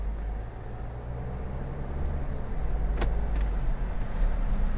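Steady low diesel engine rumble from an Isuzu V-Cross 4x4 3.0 pickup truck, heard from inside the cab, with a brief click partway through.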